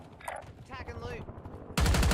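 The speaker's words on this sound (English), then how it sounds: "Hostile shooting" Automatic gunfire from the Warzone video game opens in a fast, loud, dense burst after a stretch of game voice lines and ambient battlefield sounds.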